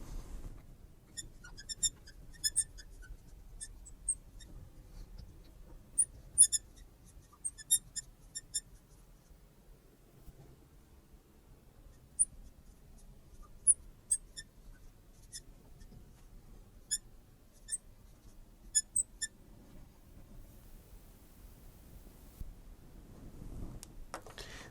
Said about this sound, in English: I'm going to go ahead and write down some definitions